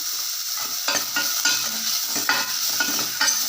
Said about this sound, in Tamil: வெங்காயம் எண்ணெயில் கொஞ்சம் வேகட்டும்